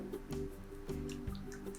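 A garlic sauce seasoned with salt, pepper and two spoonfuls of cold boiled water is stirred together, giving soft, wet squishing strokes in a steady rhythm over a faint tonal hum.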